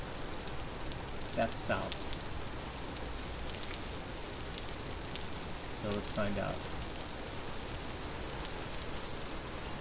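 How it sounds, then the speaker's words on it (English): Steady rain patters continuously in the Vintage Story video game, a constant hiss across the whole stretch with a few brief clicks, while someone talks over it. "We can get out of this rain again"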